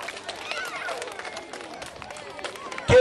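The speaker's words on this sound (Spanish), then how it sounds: "un aplauso para todos los que han colaborado en esta chocolatada de nuestros niños y niñas" A crowd of adults and children applauds at a parish chocolatada of the Virgen de las Nieves parish in La Tinguiña, Ica, Peru, a dense patter of clapping mixed with chatter, ending in a loud thump.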